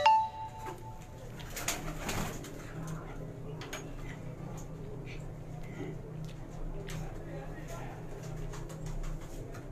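Soft racing pigeon coos and rustling on a rooftop amid a faint, busy background, with a few clinks and knocks scattered throughout.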